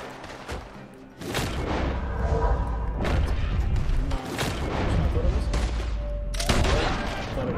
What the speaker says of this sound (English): I'm trying to find where he's shooting from.